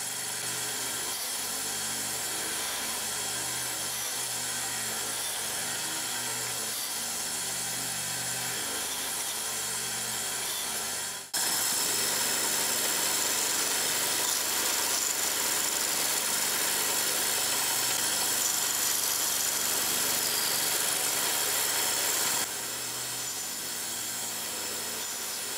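A power tool routs the front guide groove into wooden pallet stock for a homemade portative pipe organ, a steady whining cut that grows louder and brighter midway, then eases back, with no voices.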